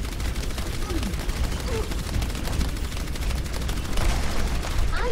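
Torbjorn's turret in the Overwatch video game fires a rapid, continuous stream of shots amid dense gameplay noise, with a few brief whistling effects mixed in.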